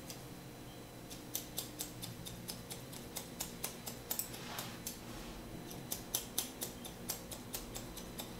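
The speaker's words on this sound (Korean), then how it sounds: "마지막으로 조금이라도 머리가 튀어나온 부분을 싱글링으로 한 번 더" Scissors trim a man's short two-block haircut, scissor-over-comb finishing: quick, crisp snips in rhythmic bursts, close and quiet, with brief pauses and no speech.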